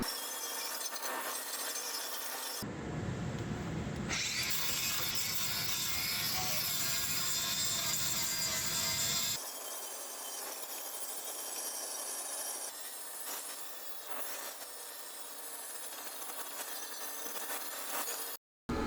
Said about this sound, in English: I put a 60 grit sander on the head of the grinder.